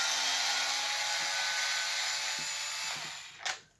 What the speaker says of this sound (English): I'm using an electric screwdriver